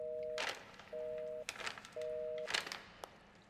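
A phone call that fails to connect: a steady electronic line tone beeps three times in even pulses, separated by short gaps, with a few soft thumps and rustles around it.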